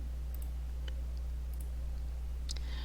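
A few sparse, faint computer mouse clicks over a steady low electrical hum, spaced irregularly across a short quiet stretch.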